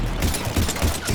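A burst of rapid automatic gunfire in Mass Effect Legendary Edition, loud, close and continuous, with repeated sharp cracks rolling over a roughly one-second exchange and no speech over it.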